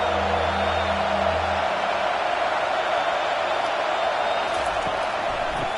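Stadium crowd at a Florida vs LSU college football game roars in a steady, dense wash of cheering that fills the whole stretch, with no break.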